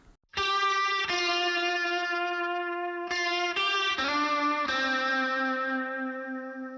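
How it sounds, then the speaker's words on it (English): A distorted electric guitar run through a Walrus Audio Julia chorus pedal plays a simple melody of sustained, shimmering notes, loud and alone, each note ringing out before the next. "that guitar is being run through some distortion as well as the Walrus Audio Julia chorus pedal"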